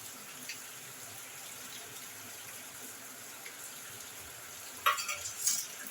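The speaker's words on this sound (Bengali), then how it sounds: "এবার আমি মাখিয়ে নিচ্ছি" Chana is mixed with tamarind water in a pan: a quiet, low wash of background sound, then a few brief wet stirring and scraping noises near the end.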